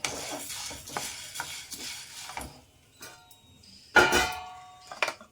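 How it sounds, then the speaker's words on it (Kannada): Drumstick leaf gravy scooped from a pan onto a plate: scraping spoon-against-metal stirs and a few sharp clinks of utensil on pan or plate, near and moderately loud, with short pauses between. "ನಾನೀಗ ಒಂದು ಪ್ಲೇಟ್ಗೆ ಹಾಕ್ಕೋತಾ ಇದ್ದೀನಿ"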